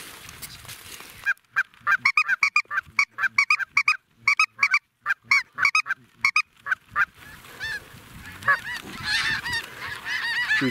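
A large flock of snow geese honks overhead at an early October waterfowl hunt, with loud, rapid clamoring calls in dense bursts that fade briefly and then swell again near the end.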